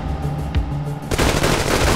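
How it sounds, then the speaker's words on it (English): Burst of rapid automatic gunfire from guns during an ongoing street shooting on 24th and Northwest Street, a loud sustained rattle that erupts suddenly after a quieter, lower-toned opening. "All units, we have an ongoing shooting in 24th and Northwest Street."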